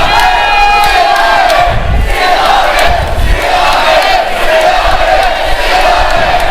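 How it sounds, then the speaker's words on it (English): Wrestling crowd at an SPW handicap elimination match roars continuously, with sustained cheering and shouting voices blending into a loud, dense wall of noise and a few louder surges. "The crowd exhorting him to use his best move"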